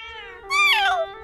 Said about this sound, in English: Talk to the cat.